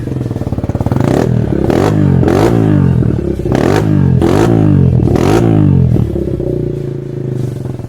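A Nicot KR4 RE150 supermoto motorcycle engine starts and revs close up, loud throaty blips rising and falling in several quick bursts before settling to a steady idle.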